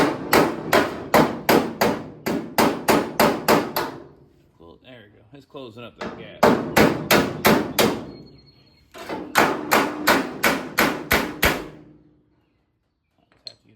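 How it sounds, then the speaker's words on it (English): Bursts of rapid metallic hammer blows on a sheet metal car tail panel ring out in quick runs of about eight strikes, with short pauses and someone talking between them. "Then I can work on hammering it that way too"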